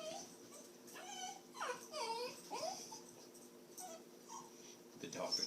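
A dog whimpering and yipping in high, wavering cries, several short whines in a row, fairly close, with a person's voice talking around it.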